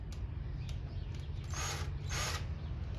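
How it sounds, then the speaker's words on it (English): A power drill with its bit whirs in two short bursts during a DIY roof rack build for a shovel and axe mount, with faint mechanical clicks between, close by and without talk. "I might have to get a smaller drill bit to start with"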